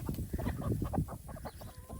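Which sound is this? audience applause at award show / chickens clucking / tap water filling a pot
chickens clucking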